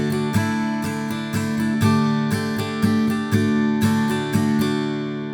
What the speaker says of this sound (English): And then back to a D, so that sounds like this.